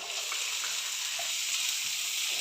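Sliced onions go into hot coconut oil in a pan, producing a bright, even, continuous sizzle heard up close with no voices.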